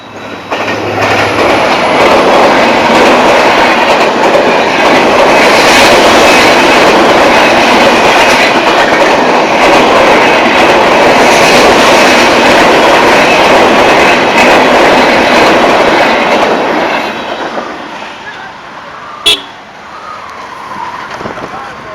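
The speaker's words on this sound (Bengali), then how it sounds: "সকালবেলায় একটা ট্রেন যাচ্ছে" A train rolls past in the morning with a loud, continuous rumble and clatter of wagons for most of the stretch, then fades away, leaving a quieter background with one sharp knock.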